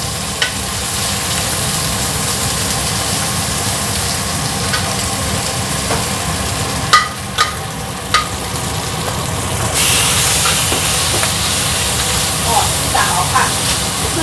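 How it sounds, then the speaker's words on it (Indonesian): Food frying slowly in non-halal oil in a home kitchen, a steady dense sizzle that runs throughout, with a few clinks and a voice speaking over it. "ini aku masih goreng minyak non halal"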